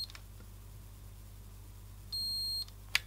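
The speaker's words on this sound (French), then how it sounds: "ça bip une fois, c'est normal, c'est active braking" A single short electronic beep from an airsoft Perun V2 optical trigger unit, signalling active braking, sounds in a quiet room, followed by a faint mechanical click.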